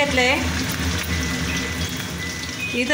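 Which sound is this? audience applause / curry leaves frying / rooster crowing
curry leaves frying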